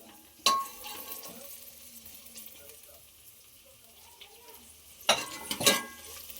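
Roasted coconut frying in oil for a festival meal: a soft, steady sizzle with sharp spatula scrapes and pan clinks at the start and near the end.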